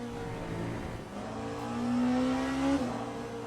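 Hypercar engine note from a multiclass racing game at Spa-Francorchamps, a sustained revving whine that climbs in pitch and swells louder mid-pass before dropping sharply, with a steady rumble underneath and no voices.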